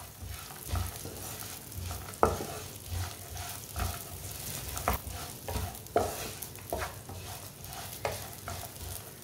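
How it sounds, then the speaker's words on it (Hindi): Raisins roast in a hot pan while a spoon stirs and scrapes them, giving a soft sizzle broken by repeated clacks of the utensil against the pan. "सौंगी को भी 1 मिनट के लिए पका लेंगे, थोड़ा सा ना रोस्ट कर लेंगे।"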